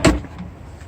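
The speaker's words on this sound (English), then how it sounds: "I will pull this drawer out." A drawer slides out of a rear drawer system in a Land Rover, a loud low thump at the start followed by a brief rumbling slide that fades to quiet, close to the listener.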